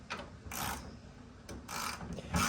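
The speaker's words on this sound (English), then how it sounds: "You put this here, tighten that bolt back down." Ratcheting and turning of a wrench tightening a bolt on the tailgate support arm of a 1999–2006 Chevrolet Silverado or GMC Sierra pickup, three short close bursts of metallic clicking with quiet pauses between, no talking.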